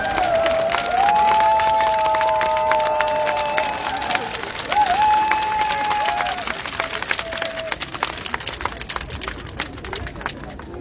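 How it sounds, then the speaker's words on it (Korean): Crowd applause and cheering at an outdoor political campaign rally in Jeju's Dongmun Market: a dense, steady wash of clapping and crowd noise lasting several seconds, with sustained tonal sounds riding over it. "큰 박수 부탁드리겠습니다"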